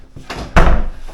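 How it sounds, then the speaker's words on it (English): A hotel room door on the third floor swings shut with one loud, close thud, followed by a brief rattle as it settles into the frame. "shut the door."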